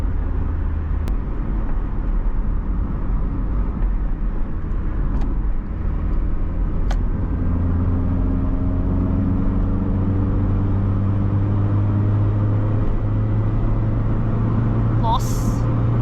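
A 1995 Chevrolet Astra GLS accelerates along the road in a steady, loud in-cabin drone of engine and tyre rumble, with gear changes shifting the engine note.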